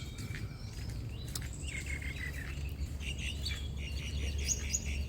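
Several birds chirp and warble continuously in a garden in the early morning over a steady low outdoor rumble, bright calls overlapping at moderate distance.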